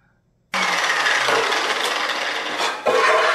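Angle grinder cutting into a metal oil tank during prep work, a loud continuous harsh rasping whine that starts abruptly after a brief quiet moment and holds steady, dipping and surging as the disc bites.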